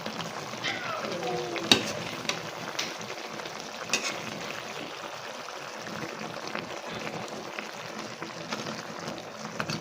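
Dried fish (daing) sizzling and crackling steadily in a hot pan, a continuous close frying hiss with a couple of sharp pops and occasional stirring clatter.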